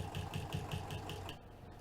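A sewing machine runs steadily while stitching a seam on a business bag, its needle chattering in a rapid even rhythm for over a second before slowing to a stop; close and loud.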